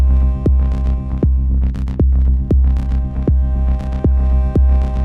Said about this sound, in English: So it kind of swells up and swells down.